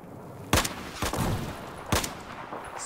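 Gunfire in the Battlefield 4 video game: three sharp, loud shots at irregular intervals over a steady background hum, with no talking.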